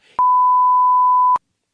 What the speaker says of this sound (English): Get your beep out.